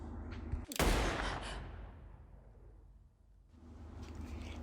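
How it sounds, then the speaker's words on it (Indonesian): A single sharp gunshot in a film scene, a loud crack followed by a fading reverberant tail that sinks into near silence before low background sound returns. "Kamis berhasil menembak Senin"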